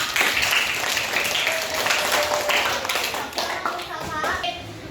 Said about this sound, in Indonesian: tepuk tangan untuk Safa